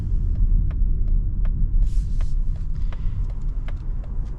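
Steady low road rumble heard from inside a 2026 Mazda CX-30 while driving, a continuous throbbing drone with light ticks and small bumps over it and no talking.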